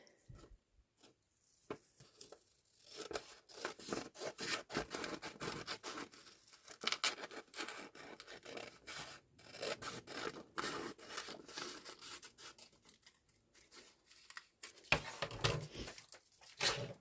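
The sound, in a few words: scissors cutting out paper for an envelope journal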